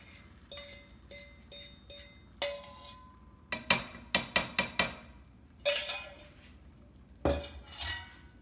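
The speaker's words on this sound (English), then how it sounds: "So our eggs are cooking now. While they're cooking, just keep stirring them, okay?" A utensil stirs scrambled eggs in a buttered pan on a cooktop, giving a quiet run of clinks and scrapes against the metal, sometimes singly and sometimes in quick clusters.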